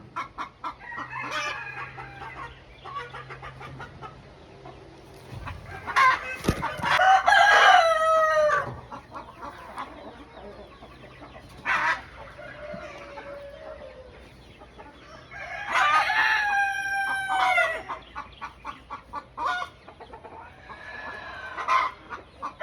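Chickens in a flock close by: repeated crowing from a rooster and a steady run of clucking, with a couple of loud crow calls standing out over quieter chatter and no voices.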